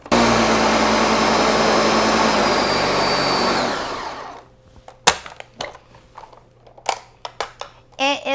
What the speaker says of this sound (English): we're gonna blend it in the blender so it's nice and smooth